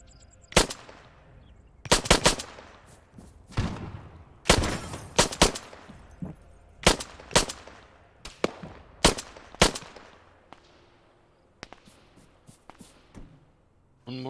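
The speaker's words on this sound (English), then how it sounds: "One more seems to be shooting." Video game gunfire cracks out in short automatic bursts and single shots, loud and sharp with quiet gaps between volleys and faint background sound.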